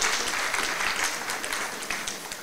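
An audience at the Miss Level Up 2023 pageant applauds the jury with dense, sustained clapping that fades slightly toward the end.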